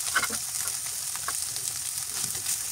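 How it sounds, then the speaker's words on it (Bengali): Small river fish sizzle steadily in a hot pan with a continuous bright crackle and a few louder pops, close and alone without talk. "এই তো মাছগুলো খুব সুন্দরভাবে ভাজা হয়ে গেছে।"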